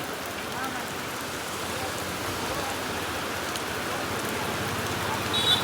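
Steady heavy rain falls around a roadside fish stall, an even, moderately soft hiss of drops that holds constant throughout.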